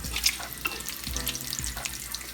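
Bacon fries in a pan while grits are stirred nearby. The sizzle is soft and continuous, with quiet spoon strokes and light crackles and no talking.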